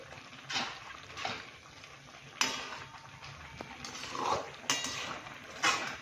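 Carrot halwa being stirred and sautéed in a pan on a high flame: sharp scattered clinks and scrapes of a spoon against the pan over a faint low sizzle, fairly quiet, with no voices.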